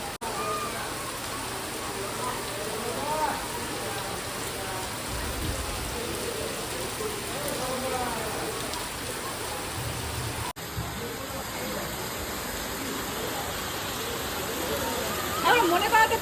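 Steady rain falls on a rooftop where clothes were left out, a constant hiss of drops throughout, with a voice talking faintly underneath.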